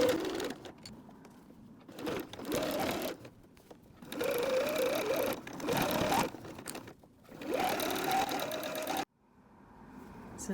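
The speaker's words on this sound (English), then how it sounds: "We're going to sew across the top edge with a 3/8 seam allowance." A sewing machine stitches across the top edge of a fabric water bottle sling in several bursts of rapid whirring, each run lasting one to two seconds with short pauses between, ending with a quiet stretch.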